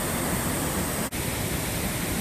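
A small waterfall at Salt Springs, Pennsylvania, heard up close as a steady, loud, unbroken rush of falling water with no voices.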